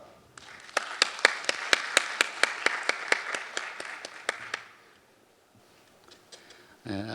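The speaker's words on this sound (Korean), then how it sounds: "큰 박수 부탁드립니다." An audience claps in a burst of rhythmic applause at the opening of a hospital association conference, strong sharp claps in a steady beat fading out after several seconds, followed by quiet and then a short noisy shuffle.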